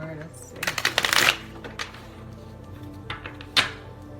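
Crisp riffling bursts of a tarot card deck being shuffled close by, one cluster of rapid flutters followed by scattered taps and a final brief riffle.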